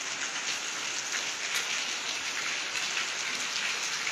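Heavy rain pours down in Bhubaneswar, a steady dense hiss of drops with no letup, moderately loud and without voices.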